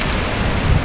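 Sea waves washing in along a bay during a breakfast outing, a steady broadband rush of surf with some wind noise, loud and close for a brief moment with no voices.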